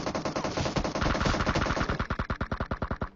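Rapid automatic gunfire in PUBG Mobile, a dense burst of shots that settles into a steady rhythmic rattle of distinct loud reports, with no talking.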